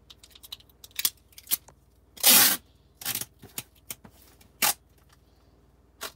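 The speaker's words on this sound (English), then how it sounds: "Maybe I better put just a little more tape on that end." Packing tape is pulled off a roll and pressed onto the end of a shipping package in a basement, one long loud ripping strip among scattered quiet taps and crinkles, close by with no talking.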